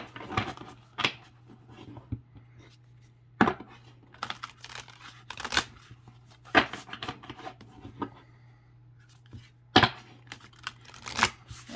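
Large astrology cards being shuffled by hand, giving a series of crisp, papery riffles and flicks in short bursts with quiet gaps, close and moderately loud.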